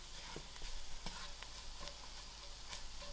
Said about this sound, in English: Give this a mix and allow it to fry just a little.